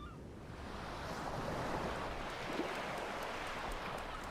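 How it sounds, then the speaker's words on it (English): Waves and wind on the rugged rocky coastline of southern England make a continuous, moderately loud roar of surf with steady wind rush and no voices. "Here, wind and wave eat away at the rock"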